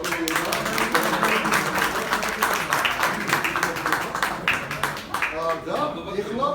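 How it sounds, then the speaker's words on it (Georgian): Hands clap steadily over several seconds at a festive gathering, a dense continuous patter of applause mixed with people talking. "მოდი ტაში დავაჯიდო."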